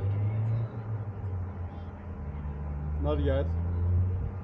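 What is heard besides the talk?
car driving on the road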